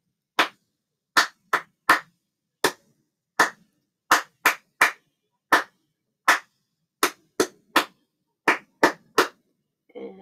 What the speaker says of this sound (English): I'm going to clap the rhythm